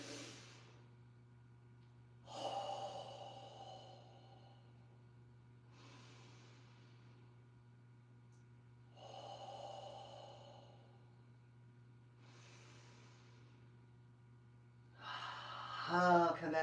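Slow, deep breathing during a full-body stretching session, with long audible inhales and exhales recurring every few seconds, soft and close, over a constant low hum.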